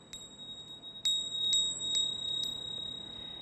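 A small bell strikes several times at uneven intervals, each bright ping ringing on briefly over quiet background hiss.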